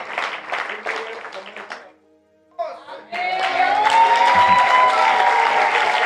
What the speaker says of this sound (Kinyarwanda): Tubakomera Imana amashyi menshi